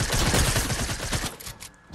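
A fast burst of gunfire in Fortnite, rapid close shots rattling for about a second and a half before cutting off into a fading tail.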